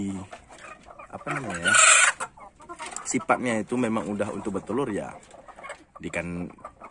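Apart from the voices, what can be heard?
native village chickens clucking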